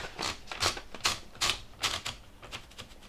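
A sheet of paper being fed and rolled into a 1939 Olympia Mod. 8 typewriter, a close series of about nine clicking ratchet turns of the platen in a steady rhythm, alone without speech.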